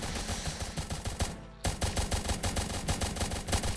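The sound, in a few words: soldiers shooting in Roblox tower defense video game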